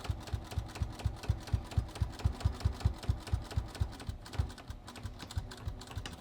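A sewing machine stitches a front fly zipper on trousers with a steady, rapid needle rhythm, running close and continuous without any talking.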